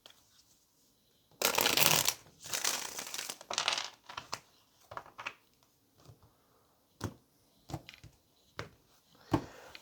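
Tarot cards are shuffled close to the microphone: a loud riffling burst, a second riffle, then scattered soft taps and flicks in a quiet room.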